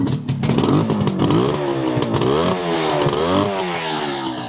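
A 1976 Suzuki GT750A motorcycle engine clatters into life on prime, then revs up and down several times, loud and close, with the pitch rising and falling with each rev.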